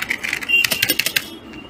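Typing on a Zebronics Avenger semi-mechanical keyboard: a quick burst of about a dozen crisp clacky keystrokes in under two seconds, close and distinct.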